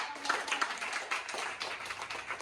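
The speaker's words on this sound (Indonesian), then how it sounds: "Kita tepuk tangan dulu untuk" A classroom of people applauds together, with a dense, steady patter of many hands clapping for a couple of seconds at moderate volume.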